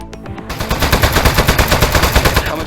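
Rapid automatic fire from the desk gun in Aperture Desk Job, a dense, loud, steady burst of evenly spaced shots that starts after a brief softer moment and runs to the end.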